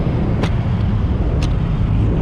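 Busy city road traffic with jeepneys, motorcycles and tricycles near the Guadalupe Bridge, a loud continuous roadway roar with a couple of brief passing hisses, no talking.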